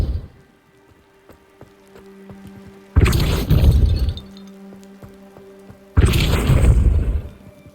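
The Depulso force spell strikes in Hogwarts Legacy. Two loud, booming impacts land about three seconds apart, each with a crackling, scattering tail, over a quiet tonal game ambience.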